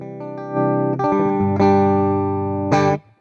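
An electric guitar plays through a modelled 1965 Fender Deluxe Reverb amp in AmpliTube 5, a few sustained chords struck in quick succession, ringing clean and close before cutting off.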